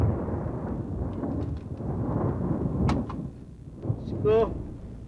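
Thunder rolls during a lightning storm in a comedy scene, a continuous low rumble under a couple of sharp cracks, with a voice cutting in briefly near the end.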